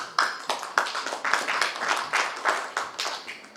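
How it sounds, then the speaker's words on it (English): An audience at a city summit session gives a round of applause, with moderately loud, irregular clapping in uneven bursts that continues for several seconds. "May I have a round of applause for Nazm Singh, please?"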